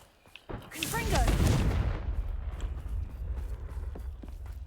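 Confringo blasting spell cast in Hogwarts Legacy, a sharp crack followed by a loud, rumbling explosive burst that slowly fades into crackling debris.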